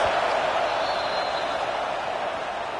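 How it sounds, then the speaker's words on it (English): A steady, dense roar of a stadium crowd in a Madden football video game fills the whole stretch, loud and unbroken without distinct voices rising out of it. "This crowd trying to make life miserable for this offense."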